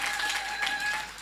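Church congregation applauding, a dense, steady wash of many hands clapping together, fairly loud and continuous for a brief moment.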